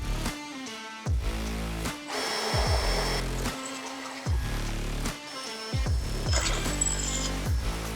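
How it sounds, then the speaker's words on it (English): A power drill bores mounting holes in the frame of a VW-powered sand rail, whining in several bursts that each spin up and wind down, with short pauses between them, close by and with no talking. "I'm just drilling out where I want to mount it"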